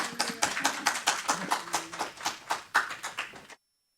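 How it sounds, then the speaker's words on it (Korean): A Korean church congregation at Sunday worship claps to welcome their pastor, a fairly loud, rhythmic series of distinct claps with faint voices beneath that stops abruptly into silence near the end. "우리 목사님 나오실 때 우리 박수로 환영하겠습니다"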